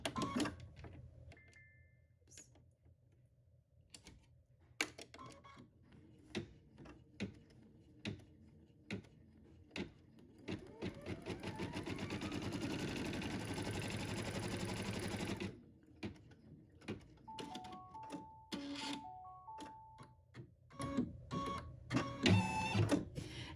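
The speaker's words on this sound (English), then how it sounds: "And now we're gonna tack it down. It's gonna do a double stitch." An in-the-hoop embroidery sewing machine runs a double tack-down stitch on a quilt block, its rapid mechanical stitching chatter building into a steady run midway, then stopping and restarting in short bursts, close and alone without talk.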